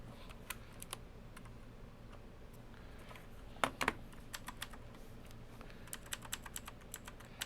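Fingers tap steadily on a computer keyboard, with irregular bursts of quiet clicks and a couple of sharper keystrokes near the middle, close up over a faint room hum with no voices.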